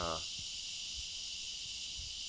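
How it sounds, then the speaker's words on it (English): Crickets chirp at dusk in a steady, dense high-pitched drone that fills the clip, faint and continuous with no talking. "Can you hear that sound? Is that like crickets?"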